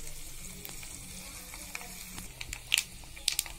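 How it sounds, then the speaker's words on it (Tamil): Mustard seeds splutter in hot oil in a pan, a steady close sizzle with sharp pops and crackles that build toward the end, faint voice in the background. "இந்த டைம்ல கடுகு பொரியட்டும். கடுகு பொரியுது."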